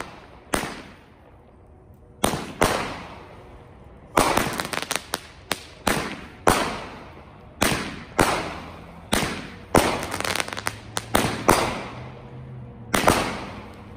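Consumer firework cake, a 16-shot AFOne, firing a series of sharp cracking bursts outdoors, each loud pop followed by a short crackling tail, spaced irregularly with brief quiet gaps between shots.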